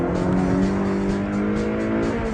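A car driven hard with sharp, quick handling: a loud, continuous engine roar holding close and strong, with hints of tire noise, and no talk over it.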